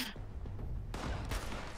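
Gunfire in Fallout 76: a short burst of sharp shots and thuds, loud and close, over a muffled game background.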